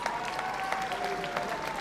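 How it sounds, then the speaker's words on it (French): An arena crowd at the Palais des Sports de Nanterre in Paris applauds a wrestler after a match, a dense, steady wash of clapping heard from within the hall. "le Palais des Sports de Nanterre a absolument raison de l'applaudir"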